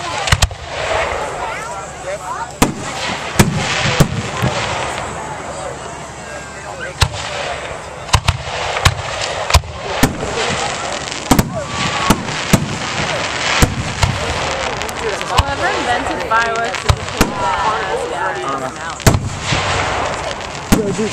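Fourth of July fireworks burst repeatedly, sharp cracks and booms scattered irregularly over a crackling background, with people talking and reacting throughout.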